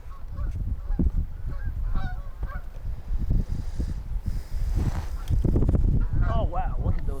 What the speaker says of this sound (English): Oh wow, look at those geese.